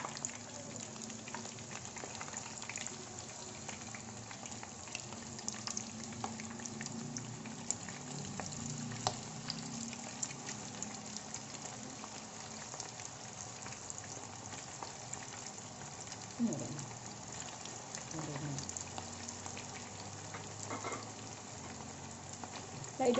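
Small beef meatballs of about 30 grams sizzle in hot oil, a steady dense frying crackle with scattered pops and bubbling running throughout, fairly close and even in level.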